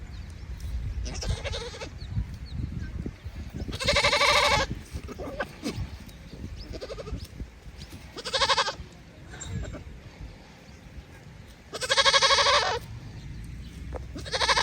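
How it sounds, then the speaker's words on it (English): Goats and a local ram bleating in loud, drawn-out calls that come in repeated bursts at irregular intervals over a quieter outdoor background. "That's a ram, a local ram."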